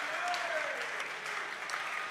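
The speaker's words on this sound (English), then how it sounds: "The crowd is getting behind him." A wrestling crowd at an MCW independent show claps and cheers steadily for a wrestler, a dense continuous wash of applause filling the venue.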